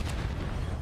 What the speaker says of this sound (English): Plenty of explosions all over the place.